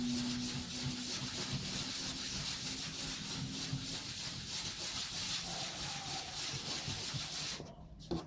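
A cotton pad rubbed by hand over clean plywood to apply varnish gives a steady, close scrubbing and rubbing sound that continues without pause, then stops abruptly near the end.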